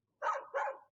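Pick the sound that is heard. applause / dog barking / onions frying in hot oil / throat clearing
dog barking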